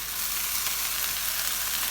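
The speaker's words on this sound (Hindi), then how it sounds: "इसको भी अब हमने भून लेना है थोड़ा सा।" Shredded chicken and steamed vegetables fry in a pan, giving a steady, loud, close sizzle that runs unbroken throughout with no voices.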